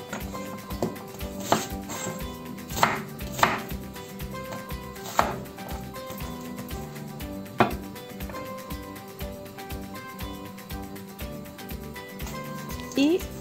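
A knife chops an onion on a cutting board in a steady, repeated rhythm, the close taps running throughout with a few sharper knocks and light kitchen clatter, while a voice talks over it.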